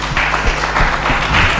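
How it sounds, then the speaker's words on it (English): An audience at a public leaders' alumni network gathering applauds, a loud, steady wash of dense clapping over a low electrical hum, with no voices on top. "A round of applause,"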